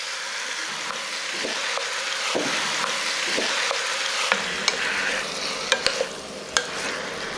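Marinated chicken stir-fries in rendered chicken fat with garlic and shallots over medium heat, a steady close sizzle broken by sharp clicks and scrapes of a spatula against the pan, the strokes growing louder near the end.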